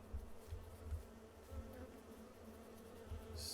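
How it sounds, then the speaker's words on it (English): Bees buzz faintly in a farming video game, a soft low droning hum with gentle pulsing swells, quiet and continuous. "Okay, so we have some bees over here."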